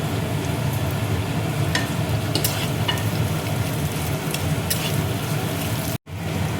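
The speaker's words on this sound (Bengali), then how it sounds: "এবার দেখো পেঁয়াজ কুচি দিয়ে দিচ্ছি" Chopped onion hits a hot pan for an egg chilli curry, a steady close sizzle and crackle of frying with faint stirring scrapes, interrupted by a brief dropout near the end.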